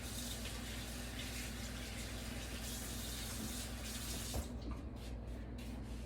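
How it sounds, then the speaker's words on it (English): Water runs steadily from a kitchen tap as fingers are rinsed at the sink, a continuous faint rushing that cuts off abruptly near the end, leaving quiet room tone. "I'm just going to rinse my fingers off, be right back."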